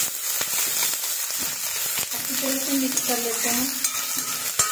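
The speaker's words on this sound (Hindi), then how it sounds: "तेल गरम हो गया है, अब हम इसमें बारीक कटा हुआ प्याज डालेंगे और एक हरी मिर्ची" Finely chopped onion and green chilli sizzle steadily in hot oil in a pan, a continuous frying hiss with stirring scrapes and clinks, and a voice briefly speaks over it.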